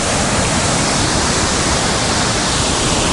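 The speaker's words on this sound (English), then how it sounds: "That's a pretty big waterfall." A large waterfall beside a glacier roars in a steady, loud, unbroken wash of broadband noise that fills the whole moment with no voices over it.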